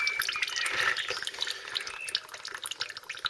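Brake fluid dripping from a bleed nipple while bleeding the brakes on a Mk3 Ford Cortina Estate, a rapid run of small close wet drips and trickles, fairly quiet and without talk.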